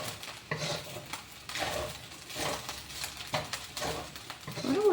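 Leftover food is stirred in a pan on the heat, a rhythmic series of scraping strokes against the pan with soft sizzling underneath, close and without talk.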